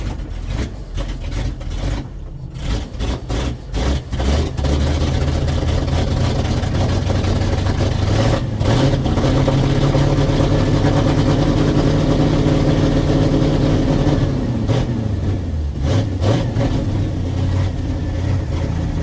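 A Dodge W200 truck engine with a faulty carburetor runs continuously close by, a loud, steady low rumble with slight surges, alone without talk.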